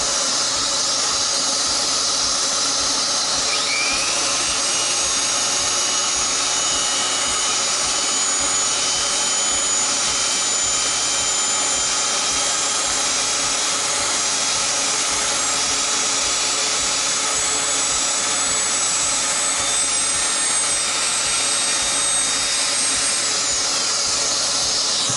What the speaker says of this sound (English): I said I needed to sand this edge right here.